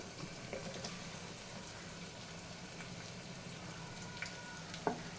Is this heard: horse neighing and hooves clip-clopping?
no